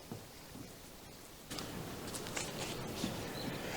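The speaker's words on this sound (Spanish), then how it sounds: "a pesar de la lluvia" Rain falling outdoors at an archaeological site in the land of Israel, a steady broadband patter that grows heavier and closer partway through and continues without talk.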